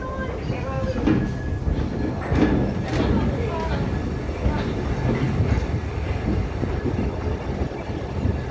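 A heritage railway train in Barbados rumbles along steadily with rattling, clattering wheel noise and hiss, broadband and continuous, with faint voices mixed in.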